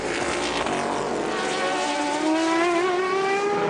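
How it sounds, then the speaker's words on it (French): An Audi prototype race car at the 2002 24 Hours of Le Mans screams past at high revs, its engine note rising in pitch as it accelerates, loud and continuous with no talk. "Voici l'Audi numéro 3, de nouveau sur 4 roues"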